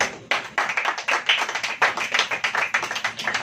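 A church congregation claps along during a Hindi-language worship service, a fairly close, rhythmic pattern of repeated hand claps that rises and falls throughout with no talking over it.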